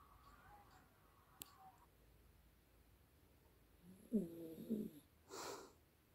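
A dog asleep on a pillow gives a few soft snoring and snorting breaths, faint and close, with quiet gaps between them and no talk.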